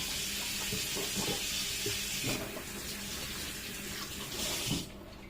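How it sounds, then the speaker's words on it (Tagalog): Food being rinsed under a running kitchen tap, a continuous hiss of flowing water into a sink with small shifts as it is moved through the stream, fairly quiet and with no talk. "Hugasan ko lang saglit. Ganitong hugas lang. Banlaw lang ba?"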